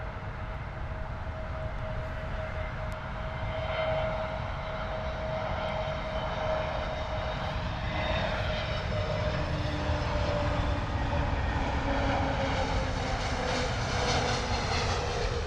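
Aer Lingus airliner landing at Heathrow, a steady broadband engine roar with a whining tonal hum, holding at a moderate level and swelling slightly toward the end, with no voices.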